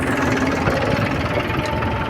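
A tractor engine runs close by at a steady idle with an even, throbbing mechanical drone and faint knocking, continuous and alone.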